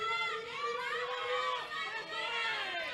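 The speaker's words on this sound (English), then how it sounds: "The Spanish vocal supporters here in Homestead, Sweden. You can hear them in the crowd." Spanish supporters at the 2021 World Classic Powerlifting Championships in Sweden cheer and shout from the crowd in a sustained, fairly distant chorus of voices.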